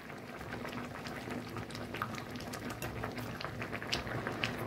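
Grated raw mango for muramba boils in a pot, a steady dense bubbling and popping that continues evenly throughout at close range.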